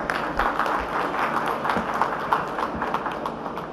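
A large audience at an electric-vehicle expo in Bengaluru gives steady, dense applause throughout, a continuous wash of clapping heard from within the hall with no speech over it.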